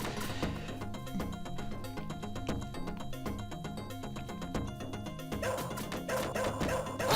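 A digitized dog from the Shadow Dancer arcade video game barks in quick repeated yips over a loud, rhythmic synthesized game soundtrack that keeps playing underneath.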